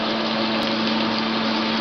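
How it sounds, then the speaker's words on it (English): A steady, loud whirring hum of a fan runs continuously with a constant tonal drone, close by and unchanging. "Sorry for the loud fan."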